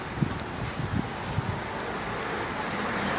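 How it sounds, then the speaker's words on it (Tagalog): Wind blows outdoors during a walk to a shopping mart in South Korea, a steady rushing noise across the microphone with a few low gusty thumps and no speech. "mahangin pa din, and may unting lamig"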